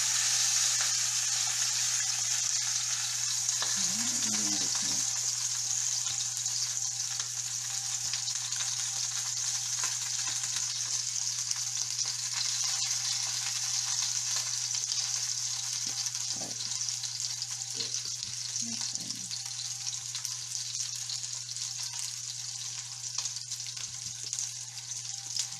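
A lamb roast searing in a hot pan, a steady bright sizzle that runs throughout with a constant low hum beneath and occasional scraping as the meat is rolled and shifted.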